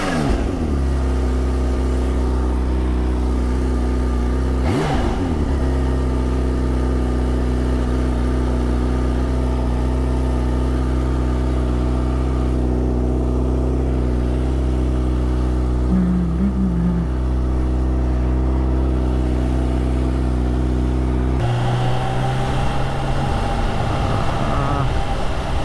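A Kawasaki Ninja H2 motorcycle rides through traffic on rain-wet roads. Its engine holds a continuous droning hum whose pitch rises and falls gently, with a shift in tone near the end.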